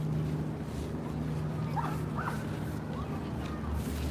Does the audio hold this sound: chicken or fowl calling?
no